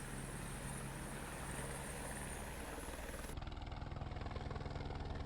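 A helicopter's engine and rotor drone steadily and loudly during a mountain flight carrying containers of fish fry in the Mercantour, with the tone shifting partway through.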